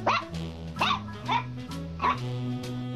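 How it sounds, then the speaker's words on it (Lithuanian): A Yorkshire terrier gives about four sharp, high yips spaced over a few seconds, fairly close, with a steady tonal hum running underneath. "Jisai yra Yorkšyro terjeras."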